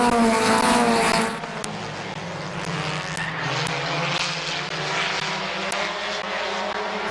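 Race cars roar past at Midvale Speedway, a loud dense engine wash that swells and fades as the pack goes by, with a sharp drop early on and a sustained broad rumble after.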